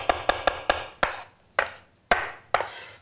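A chef's knife chops parsley on a cutting board in sharp, distinct strokes, several in quick succession and then spaced more slowly, close and clear with no voices.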